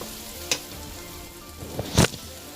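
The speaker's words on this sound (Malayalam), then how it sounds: "ഈ കൈപ്പയ്ക്ക് നന്നായിട്ട് വഴറ്റണം" Bitter gourd sautéing in oil for a Kerala curry: a low, steady background sizzle broken by two brief bursts of louder crackle and scraping, with no one speaking.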